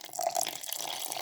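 Around 200 millilitres of milk pour into a blender holding ground apple and dragon fruit, a short soft liquid splash and trickle, fairly quiet and close.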